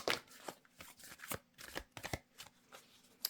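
Tarot cards shuffled close up in a quiet room, giving a quick run of soft riffling flicks and slaps, about a dozen crisp bursts in a few seconds, with no voice.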